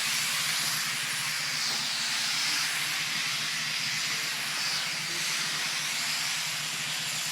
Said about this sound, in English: See the steam coming out of there.